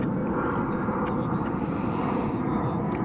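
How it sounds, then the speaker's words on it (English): Passenger jet arriving from San Francisco, landing at Dallas/Fort Worth airport: a loud, continuous close engine roar with dense rumbling noise and a faint high whine, no talk. "Flight coming in from San Francisco after 2 hours and 44 minutes. And it is landing about 40 minutes early."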